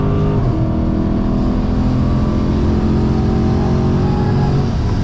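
A Dodge Challenger SRT 392 Scat Pack V8 roars loudly and continuously close by, its deep engine note holding high revs throughout with a steady, heavy rumble.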